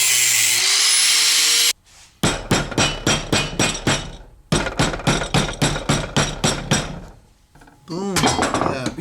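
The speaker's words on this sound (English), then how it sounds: "I'm gonna hammer it in, weld it shut, and it'll be good." Metal hammering on an EGR part from a Lexus SC400 engine, loud close strikes in fast rhythmic bursts of about a dozen blows each, separated by short pauses, with other shop noise before and after.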